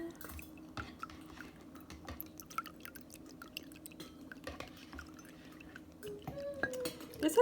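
Soy sauce trickles into a sauce mixture for Hawaiian shoyu chicken, a faint, steady drip and pour close by, swelling slightly louder toward the end.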